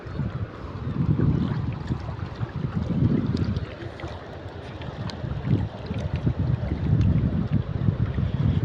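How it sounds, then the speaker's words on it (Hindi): Loud, steady rushing floodwater roars continuously, swelling in waves with wind buffeting the microphone; no voices. "अभी भी पानी तेज आ रहा है, इस तरह तेज आ रहा है"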